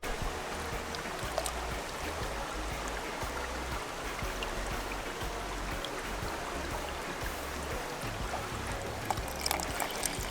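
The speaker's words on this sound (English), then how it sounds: "I'm throwing some water in there to boil it up" Water pours into a pot of sorrel petals at an outdoor Jamaican cooking fire, a faint steady splashing trickle heard alone for about ten seconds.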